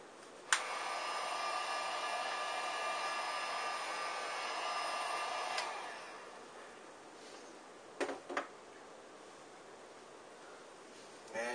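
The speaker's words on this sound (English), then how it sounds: "And let's take our heat gun." Heat gun blowing hot air over shrink tubing on a steel fishing leader, a steady close airflow hiss lasting about five seconds and then cutting off, followed by a couple of brief handling clicks.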